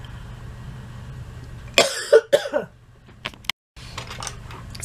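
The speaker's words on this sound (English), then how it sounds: "Sorry, I had to pause for" An allergy-driven coughing fit: a burst of several sharp, close coughs in quick succession, then a couple more isolated coughs after a brief silence, over low room hum.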